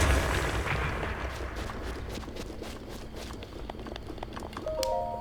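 A remote bomb blowing up in Zelda: Breath of the Wild, a loud booming burst at the start that decays into rumbling debris and crackle, with a chiming tone near the end.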